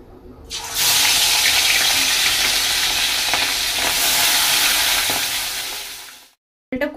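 Fish pieces rubbed with salt and turmeric go into hot oil, bursting into a loud, close, continuous hiss that holds for several seconds, eases off and cuts out near the end before a brief clatter.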